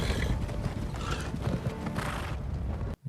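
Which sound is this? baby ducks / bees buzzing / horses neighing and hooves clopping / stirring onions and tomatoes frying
horses neighing and hooves clopping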